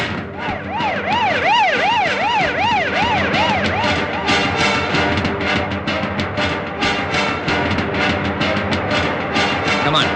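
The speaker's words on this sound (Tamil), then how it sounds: "இந்த ஆம்புலன்ஸ் அடிக்கடி வருதே" An ambulance siren wailing loud and close, its rising and falling tone cycling rapidly for several seconds before breaking into choppy bursts as it passes, with street and vehicle noise underneath.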